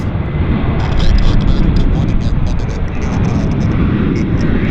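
A jet airliner takes off at Vancouver YVR airport, its engines a loud, steady roar filling the whole stretch, with a voice talking over it.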